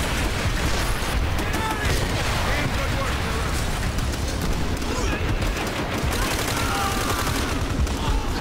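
Rapid machine gun fire in a World War II shooter game, dense overlapping bursts of automatic gunfire and battle noise filling the whole stretch, loud and continuous, with people talking over the din.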